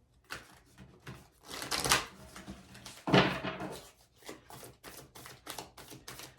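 Oracle cards being shuffled by hand in a few quick riffling bursts, the crispest around the middle, amid scattered lighter card taps and rustles, close and fairly quiet.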